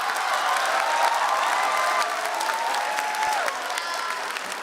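Audience applause after a stand-up comedy act, a dense, sustained wash of clapping from a crowd, loud and steady before easing slightly near the end.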